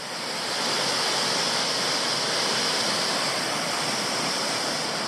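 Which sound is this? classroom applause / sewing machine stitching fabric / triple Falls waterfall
triple Falls waterfall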